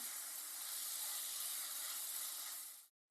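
Ripe banana pieces caramelize with a little sugar in a pan, giving a steady, even sizzling hiss that holds for nearly three seconds and then cuts off abruptly.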